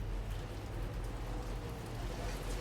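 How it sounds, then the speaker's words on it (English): Steady rain falls in the video game Death Stranding 2, a dense, even patter with a low rumble underneath, continuous and moderately quiet throughout. "It's raining out there."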